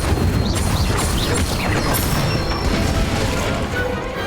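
An Incendio fire spell goes off in Hogwarts Legacy as a loud, dense burst of whooshing flame and crackling magical effects, with rumbling low-end impact and bright shimmering tones layered on top.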